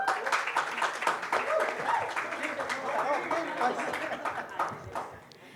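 Applause for speakers at a fintech conference stage introduction, a busy crowd clapping with scattered sharp hand claps, mixed with murmured chatter and fading slightly toward the end.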